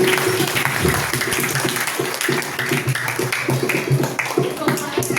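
A seated audience at a children's cultural program at Gayatri Shaktipeeth, Dugawan, Lucknow, claps loudly to welcome a speaker onto the stage: continuous, dense applause for over five seconds with faint voices mixed in.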